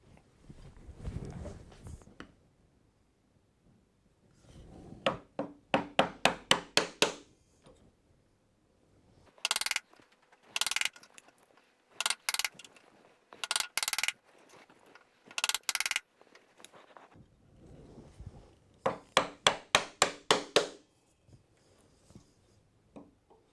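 Steel chisel levering waste wood out of a hand-cut wedged mortice, heard as bursts of sharp wooden clicks and cracks in short close runs separated by quiet pauses.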